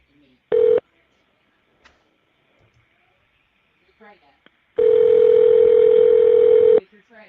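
Telephone dial tones on a prison inmate call: one short beep, then quiet with faint clicks, followed by a long sustained tone lasting about two seconds, close and loud.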